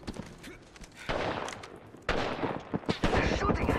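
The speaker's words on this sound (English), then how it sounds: "They're shooting at me!" Rapid gunfire in an Apex Legends match, bursts of shots crackling in quick strings that grow louder and denser toward the end, under and between in-game voice lines.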